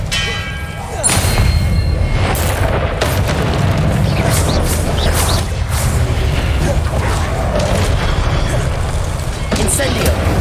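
Expelliarmus spells in Hogwarts Legacy fire off as several booming blasts with clanging, metallic edges, scattered across a busy, loud battle soundscape.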